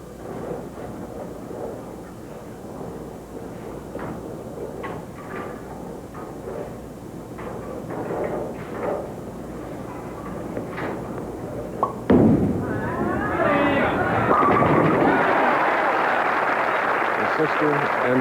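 Bowling ball from a pro bowler at the 1986 PBA Greater Hartford Open rolls down the lane under commentary, then strikes the pins with a sharp crash and scatter that rings on amid arena noise.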